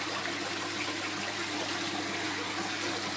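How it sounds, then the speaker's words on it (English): Water pours steadily in a home-built waterfall aquarium made from a converted planter box, a constant close rushing trickle with no change in level and no voices. "in the planter box we've converted into a waterfall and an aquarium"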